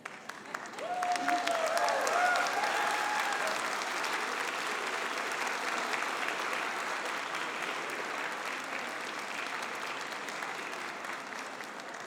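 Graduates at a BCIT convocation standing to applaud and cheer their supporters, a sustained wave of clapping from a large hall crowd that swells early and then holds, with a voice briefly audible over it.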